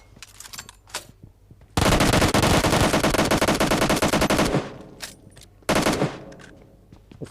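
Bursts of automatic gunfire in the BGMI battle royale video game, with a long sustained volley followed by a shorter burst, loud and close amid scattered single shots.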